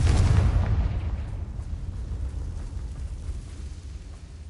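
A Confringo spell explodes in Hogwarts Legacy on PS4, a single heavy, booming blast that hits loud at once and then fades into a long rumbling tail.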